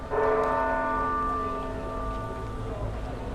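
A church bell of Barcelona's Sagrada Familia rings once for the 45-minute mark outdoors, a loud, clear strike whose tone hums and slowly fades over a few seconds against low background noise.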